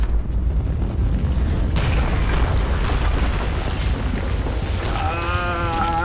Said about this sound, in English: The sonic boom